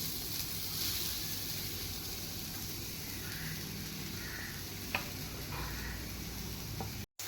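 Grated coconut dry-roasts in a pan for Mangalore-style chicken sukka, giving a soft, continuous sizzle and scraping stir. It is fairly quiet and even, with one small clink partway through.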